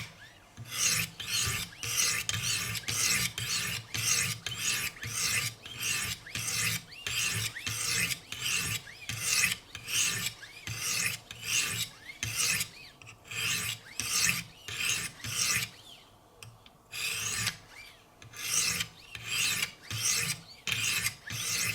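A knife blade is drawn over a 200 grit stone on a Wicked Edge sharpener, with light pressure on S90V steel, making steady rhythmic rasping strokes, each about half a second, close up and continuous with a brief pause near the end.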